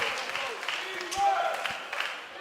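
A college men's basketball crowd cheers and applauds in a gym, a continuous mid-level roar of voices and clapping over a brief two and a half seconds, with a commentator talking over it.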